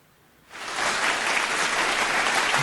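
Applause erupts abruptly after a brief quiet moment and holds as a steady, dense clapping from a live audience greeting a guest on a Saturday show, loud and sustained to the end with no talking over it.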